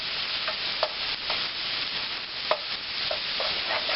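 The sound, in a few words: garlic frying and being stirred in a pan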